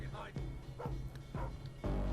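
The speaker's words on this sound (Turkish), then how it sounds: "Oğlum susturun lan şu köpeği bak" Dog in the game Thief barking in four evenly spaced, close woofs, with a voice talking alongside.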